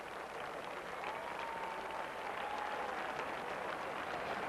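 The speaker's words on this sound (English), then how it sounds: "getting a very warm round of applause here from the crowd at the Olympic Club" Crowd applause at the Olympic Club golf course during the 1987 U.S. Open final round, a steady, fairly distant patter of clapping that holds throughout.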